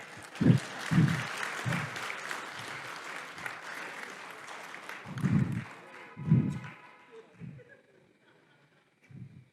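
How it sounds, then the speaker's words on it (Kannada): An audience claps in bursts, with short rounds of applause rising and fading across the hall, and a speaker's voice faintly audible between the rounds. "ಚಪ್ಪಾಳೆ ತಟ್ರಿ"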